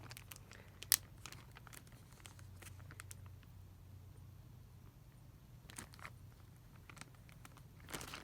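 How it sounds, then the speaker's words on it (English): Soft crinkling and rustling of a plastic bag being sealed tight, with a few sharp crackles, fairly quiet, over a low steady hum. "Then make sure you seal that bag nice and tight"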